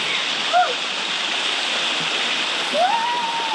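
A waterfall at Taman Negara, Malaysia, gives a steady, dense rush of falling water throughout, with voices briefly exclaiming over it.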